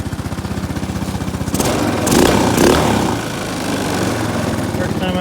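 An Arctic Cat 300 ATV engine runs after carburetor cleaning and a fuel tank drain, a steady close putter that jumps to a louder, rougher rev midway and then holds; a voice talks over it.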